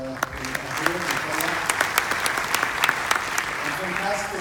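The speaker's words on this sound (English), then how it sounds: "Maybe a round of applause for all the startups that are here." An audience at a fintech event applauds the startups present, a sustained crowd clapping with sharp individual claps standing out, with some voices mixed in underneath.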